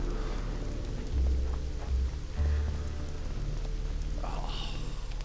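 Steady rain hiss in the Witcher 2 video game, a continuous wash of falling rain with a few low rumbling swells and faint bumps mixed in.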